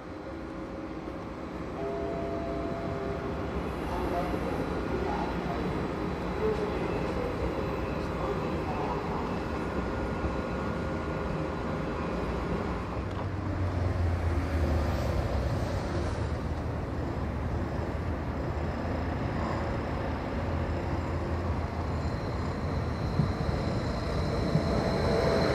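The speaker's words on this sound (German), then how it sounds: "Seit Ende 2014 fährt der Südwestexpress, kurz SÜWEX, mit Flirt-3-Zügen." A Stadler Flirt 3 electric passenger train on Südwestexpress regional service produces a steady, fairly loud rumble and rolling drone that carries through the whole stretch and swells slightly in the middle.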